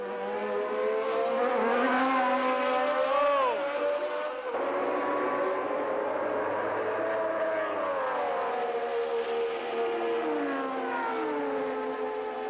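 Formula One race cars at a Grand Prix, including Emerson Fittipaldi's Lotus, with a high engine whine rising and falling steadily as the cars pass, loud and continuous.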